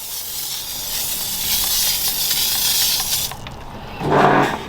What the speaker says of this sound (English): we'll put some wheel shampoo through a foamer on it